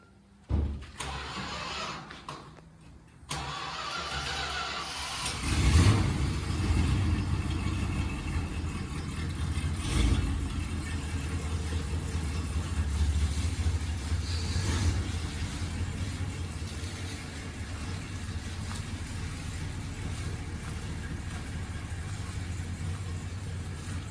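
A car engine cranks and starts, then runs with a steady mid-pitched rumble that continues to the end. There is no talk.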